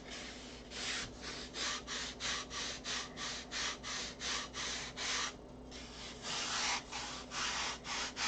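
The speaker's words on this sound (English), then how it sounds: "when I sand the foam down to it" Foam being sanded by hand while building a model aircraft, a steady series of about fifteen rhythmic back-and-forth rubbing strokes, close and fairly loud, with a brief pause near the middle and no talking.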